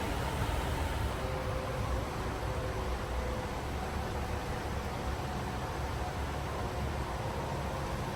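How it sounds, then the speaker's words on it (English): Steady broadband rush of flowing water mixed with distant freeway traffic beneath a bridge, a constant even wash of noise with no distinct events, moderate and continuous throughout. "The sounds of the water, the freeway, pretty good white noise to have in the background."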